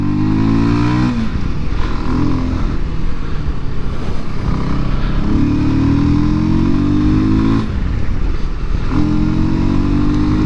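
A 2025 Voge 300 Rally adventure motorcycle runs on the road, its single engine revving up through the gears in repeated rising pulls with short dips at each shift. It is loud and close, with wind noise around it.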